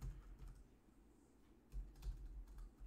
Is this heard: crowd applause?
no